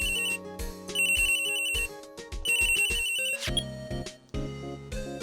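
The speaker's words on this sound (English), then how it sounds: "Can that phone stop going off?" A phone in the Phoenix Wright video game rings insistently with a loud, repeating electronic ringtone of bright beeping tones over a musical backing.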